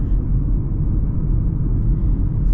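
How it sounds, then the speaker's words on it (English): Inside a 2026 Mazda CX-50 Meridian on the move, a steady low rumble of tire and road noise fills the cabin, constant and fairly loud with no voices. "The loudest thing is the tires, right?"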